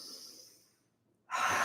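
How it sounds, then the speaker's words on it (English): Someone exhales through an open mouth with the tongue out during a yoga session, a soft breathy huff that fades, then a short pause and a sharper, louder burst of breath close by. "Inhale, and then exhale out the mouth, tongue out."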